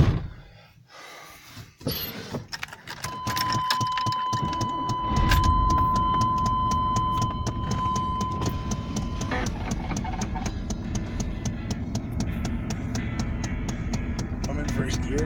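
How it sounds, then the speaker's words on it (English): Old truck engine running, a rough continuous rumble close by after some clattering and a start-up, with a steady tone and rapid ticking for a while, and people talking over it. "Oh, this old truck."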